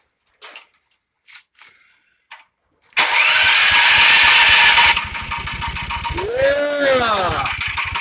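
Generator engine being fine-tuned, starting with a sudden loud roar after a few faint knocks, then running steadily at mid pitch with a rising and falling rev swell, close by.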